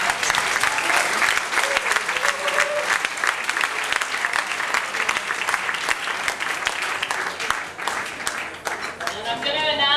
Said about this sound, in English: let's applaud all the winners up here tonight